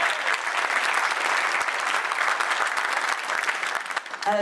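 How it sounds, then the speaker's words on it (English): Concert audience gives a full, sustained round of applause after a pipers' performance at a military band gala, a dense wash of many hands clapping that holds steady before tapering slightly at the end. "Another round of applause, I think."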